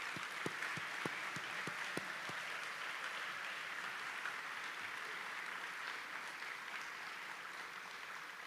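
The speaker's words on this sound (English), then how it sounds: "Let's have a big final round of applause for all of this morning's award winners." An auditorium audience at a university faculty and staff convocation claps for the morning's award winners, soft and distant, with a few sharper hand claps standing out at the start before the sound settles into an even, faint wash.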